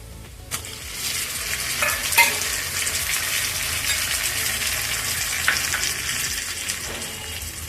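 Onions and tomatoes sauté in a pan for a chicken liver gravy, giving a continuous close sizzle broken by occasional scraping stirs and spoon knocks against the pan, with no voices.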